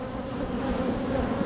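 Bees buzz steadily against a catio screen, a close, continuous droning hum that holds at an even level throughout, with no voices.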